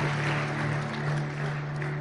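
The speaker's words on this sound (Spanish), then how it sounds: "fuerte aplauso al Señor" Church congregation at Iglesia Nueva Vida clapping steadily in a dense, sustained burst under a low steady hum, with no voices over it.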